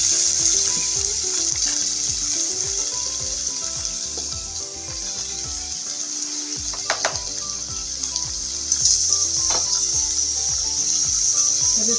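Tomatoes sauté in a covered pan, giving a steady, close hiss of sizzling with light crackles throughout and no talking.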